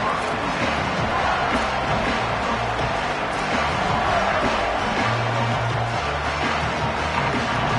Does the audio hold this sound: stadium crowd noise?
yes